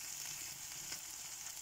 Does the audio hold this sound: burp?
no